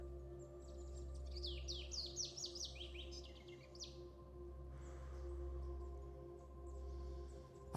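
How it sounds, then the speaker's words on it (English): Birds chirp and trill outdoors, a quick burst of bright rapid tweets early on followed by fainter calls, all sitting over a steady low hum. "the birds are singing and it's incredible"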